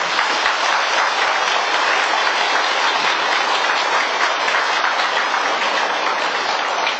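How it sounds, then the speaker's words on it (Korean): Steady, dense applause from a church congregation at a Catholic talk, loud and continuous throughout without any speech. "오늘 첫 시간이지만 우리 하나님께 박수를 쳐드리는 거예요"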